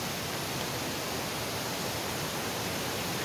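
A small waterfall at Lindeman Lake near Chilliwack: a continuous, even, hissing rush of falling water, steady and moderately close with no other sounds.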